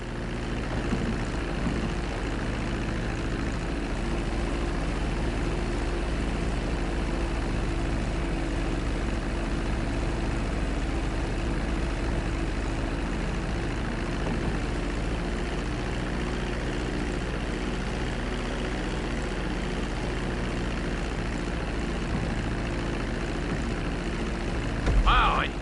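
An airplane taxiing on a runway in a video game, its engine producing a continuous low, droning hum at an even level, with a slight rise right at the end.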